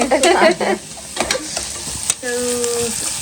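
Onion frying in a pan until red for a mutton curry, with loud clattering stirs at first, then a quieter sizzle and a brief whistling tone near the end, no speech.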